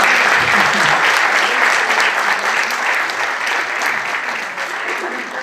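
A church congregation applauds for Jesus, with dense, steady clapping filling the space and fading slightly toward the end.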